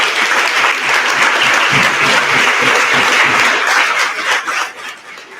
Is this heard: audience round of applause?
yes